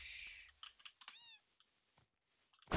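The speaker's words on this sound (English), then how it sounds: "Cat, why are you following me?" A cat meows once outdoors, a short rising-falling call heard fairly close amid scattered clicks and faint background noise, with no talking over it.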